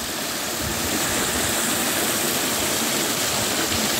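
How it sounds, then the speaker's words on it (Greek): Small waterfalls at Gkoura near Anthiro, with water tumbling down in a steady, loud, close rush that continues unbroken and without any voices. "πολύ μικροί καταράκτες της Γκούρας. Το νεράκι που κατρακυλάει."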